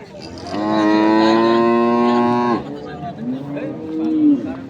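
A dairy cow at a busy village cattle market in Dinajpur lets out a loud, long, drawn-out moo close by, followed by a second lower moo as market chatter continues in the background.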